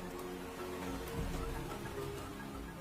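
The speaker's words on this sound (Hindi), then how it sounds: "ये बरसात की शुरुआत है।" Steady rain falls with a soft, continuous hiss and patter, an even wash of sound with no voices.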